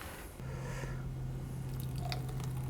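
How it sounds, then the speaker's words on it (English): A strawberry, carrot and orange smoothie is poured into a glass, giving a quiet, thick, wet squishing flow over a steady low hum, with no talking. "let's pour this into a glass and see what I've got here"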